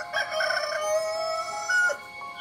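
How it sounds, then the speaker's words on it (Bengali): A wild rooster crows in a loud, drawn-out cock-a-doodle-doo with a brief second rise near the end, heard alone as a sound effect in a Bengali horror audio story. "সন্ধ্যের পর তারা একটা বুনো মোরগ নিয়ে এলো"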